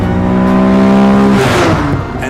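Loud, close revving of a Nissan Skyline GT-R C10 Hakosuka engine, a sustained rising tone that swells and then drops off sharply into a rougher roar.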